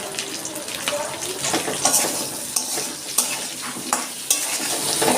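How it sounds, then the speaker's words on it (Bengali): Potatoes with a pinch of salt frying in oil in a pan, a steady broadband sizzle with several sharp scrapes of a spatula stirring through it, close and fairly loud. "আমি আলুটা একটু ভেজে তুলে নিচ্ছি আমি আলুতে অল্প একটু নুন দিয়ে দিচ্ছি"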